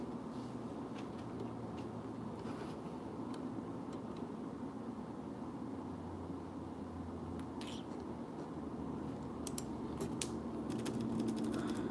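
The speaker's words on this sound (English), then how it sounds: "Just typing." Keys clatter on a computer keyboard in quick irregular bursts over a steady low room hum, with denser clicking flurries near the end; no one talks.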